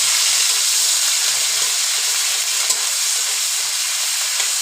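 Onion paste sizzles in hot oil for a Bengali pointed gourd (tel potol) dish, a steady, loud, even hiss with no talk.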